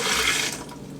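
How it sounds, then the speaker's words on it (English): Juice poured from a blender into a container: a brief, close stream of liquid splashing that tapers off within a second. "pour the juice in here"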